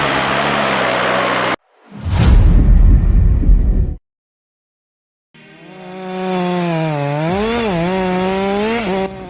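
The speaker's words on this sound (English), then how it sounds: "The Style MS462 hums steady, built for days that test both patience and power." A Stihl MS462 chainsaw cuts timber in loud bursts: a roaring cut, a sharp whoosh and crash, a silent gap, then the saw revving back up with wavering engine pitch, close and dominant.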